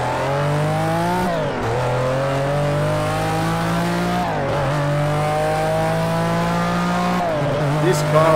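A McLaren F1 race car in the racing game Project Cars 2 drones loudly through its gears, its engine note climbing in long sweeps and dropping sharply at each of two upshifts, close and dominant throughout.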